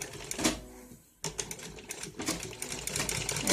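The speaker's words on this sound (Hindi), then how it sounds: "अब हमें ऐसे सिलाई लगानी है पूरे के ऊपर" A sewing machine runs fast stitches along the top of a ladies' suit made of net cloth with blue thread, a close, rapid whirring that stops for a moment and then starts again.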